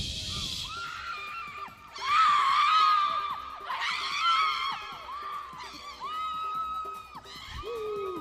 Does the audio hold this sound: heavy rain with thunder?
no